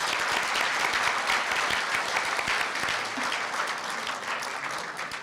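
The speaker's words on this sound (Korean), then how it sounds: "오탁권 동익에 다시 한번 박수 보내드리겠습니다" Audience applause for a poet at a university newspaper's 70th anniversary ceremony, a sustained, even roar of many clapping hands in a hall, steady and full without a break.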